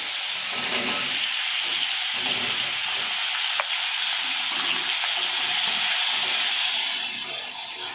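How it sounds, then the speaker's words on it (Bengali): Diced cucumber sizzles and hisses in a hot wok (kadai) with black cumin, a loud, close, continuous frying crackle with faint stirring scrapes and steam, no voices. "এর মধ্যে আমি যে কাঁকুড় কাটা ডুমো ডুমো এটা কড়াতে ছেড়ে দেব।"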